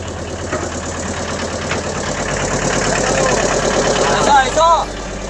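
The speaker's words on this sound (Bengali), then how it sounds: "দেখতে পাচ্ছেন নৌকা চালু হয়ে গেছে।" A motor boat engine running on the water at Maithon Dam, a loud, close, steady chugging idle with a few brief tonal squeaks near the end, and voices faintly mixed underneath.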